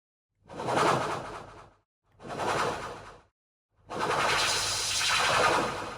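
Three bursts of broadband hissing noise from a Pioneer RMX-1000 DJ effects unit, two short swells and a longer sustained one, each fading in and out with pauses between.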